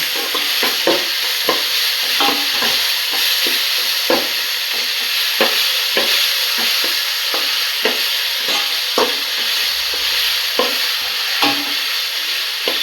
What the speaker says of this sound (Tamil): தக்காளி சேர்த்து நல்லா வதக்கணும்.